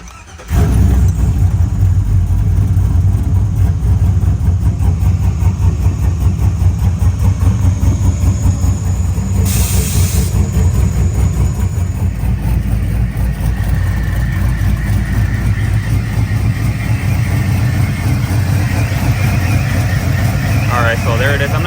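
A Chevrolet Silverado truck with a BTR stage 3 cam and dual air intake starts up and idles loudly and close by, its choppy, lumpy rhythm steady throughout, with a person talking briefly over it.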